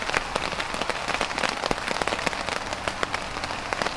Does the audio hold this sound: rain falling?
yes